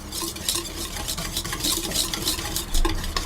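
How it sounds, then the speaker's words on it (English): A whisk stirring baking powder and baking soda into cupcake batter in a bowl, steady close scraping and tapping strokes that run continuously with no talking. "stir it round with a whisk"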